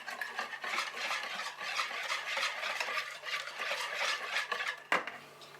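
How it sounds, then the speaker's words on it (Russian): Quick, close scraping and clinking of a utensil stirring a pastry mixture for Turkish dill rings in a bowl, a busy irregular rhythm with a sharper knock near the end, no voices. "Немного размешаем."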